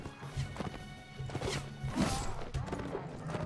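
A horse is struck in battle in Mount and Blade Warband, giving several sharp thuds and whacks amid game clatter and hoof noise, with a short burst near the middle.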